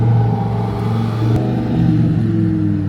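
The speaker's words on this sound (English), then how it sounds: "That thing sounds beautiful. We got another M4 comp right there." A BMW M4 Competition with an aftermarket exhaust rumbles past at a car meet, a loud, close, deep droning engine note that shifts slightly in pitch as it goes by, with no talking.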